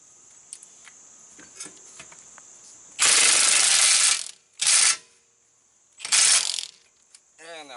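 A powerful impact gun on a Harbor Freight wobble extension fires in three loud rattling bursts, the first over a second long and the next two shorter, up close with quiet gaps and a faint whine between.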